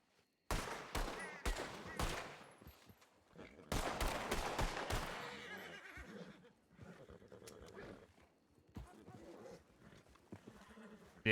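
Rapid bursts of gunfire ring out in a Red Dead Redemption 2 roleplay game, several sharp, loud shots in quick clusters, a horse whinnying amid the shooting, with quieter game sounds trailing afterward.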